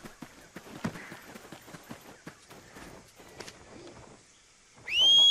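A horse in the Black Desert video game trotting with clip-clop hooves in an irregular rhythm, followed by a loud, sustained high whistle near the end, all close and clear.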